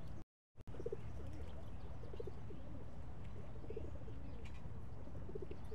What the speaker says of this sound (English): He's doing a mating call.